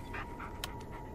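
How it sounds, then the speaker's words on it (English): A dog in the Blair Witch video game panting softly, a quick rhythmic huffing heard briefly and faintly over a steady ambient game background with no speech. "My beautiful, beautiful puppy."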